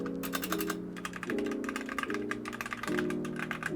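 Rapid clicky keystrokes on a gaming keyboard tapping out in quick bursts over a low repeating musical loop, close and crisp.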